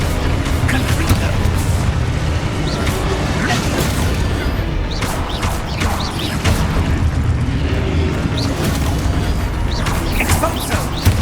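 Confringo fire spells explode repeatedly in Hogwarts Legacy combat, with loud booms and crashes stacking over dense game music and effects. Spoken spell incantations and character voices run throughout.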